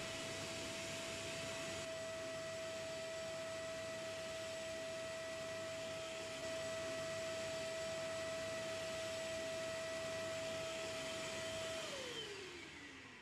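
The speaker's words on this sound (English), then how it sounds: "Use the wet vacuum cleaner again and repeat the vertical top to bottom routine." A wet vacuum cleaner runs steadily while cleaning an aircon evaporator coil, a loud constant whine and airflow hum that holds for about twelve seconds, then spins down as the motor is switched off.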